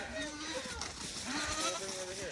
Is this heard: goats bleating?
yes